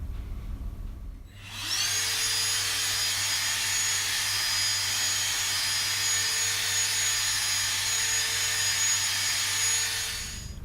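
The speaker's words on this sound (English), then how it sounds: "getting a vacuum cleaner out and cleaning it off." A vacuum cleaner switches on after a moment and runs with a steady high-pitched whine and roar, loud and close, continuing without pause.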